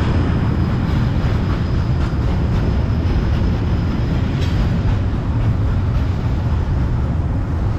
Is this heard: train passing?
yes